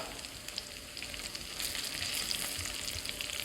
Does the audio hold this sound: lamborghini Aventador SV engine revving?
no